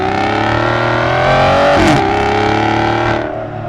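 Aston Martin Vanquish Zagato Shooting Brake with a V12 engine and 8-speed dual-clutch transmission accelerating hard, a loud, close, rising engine roar with a brief gear-change dip midway before easing off at the end.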